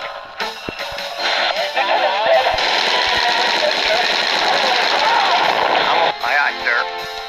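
Gunfire and battle noise from the Vietnam War video game NAM on Android, a dense, loud clatter of shots and explosions over a droning background, with a voice speaking over it and scattered sharp reports near the start and end.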